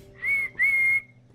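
A human voice imitates a train's steam whistle with two loud, close, sustained whistling tones, the second longer than the first, heard alone.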